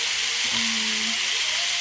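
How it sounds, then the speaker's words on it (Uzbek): Onions frying in a pan, a steady close broadband sizzle that holds evenly throughout, with a brief faint tonal hum in the middle. "Endi piyozni tilla rang kirguncha qovurib olamiz."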